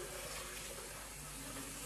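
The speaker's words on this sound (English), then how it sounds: "And now all you have to do is just wash it with water." Tap water runs steadily while a blender jar is rinsed out, a soft continuous rushing and splashing with no voices.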